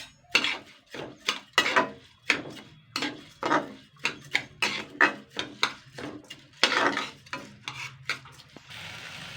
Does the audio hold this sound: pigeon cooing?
no